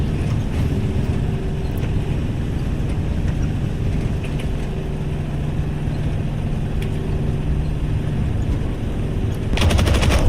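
Rapid gunfire crackles through the Aces of Thunder video game, a dense, steady burst of shots over a continuous engine drone, with a louder flurry near the end.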